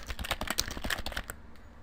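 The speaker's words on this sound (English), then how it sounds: "I am just going to type in my YouTube name." Rapid, close clicking of keys on a computer keyboard as a site title is typed, a quick flurry of taps lasting about a second before stopping.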